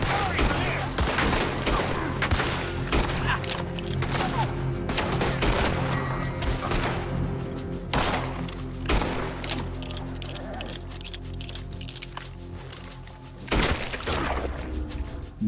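Repeated gunfire in Red Dead Redemption 2 rings out in rapid bursts and single cracks across a dense game soundscape, loud and close, with a heavy blast near the end.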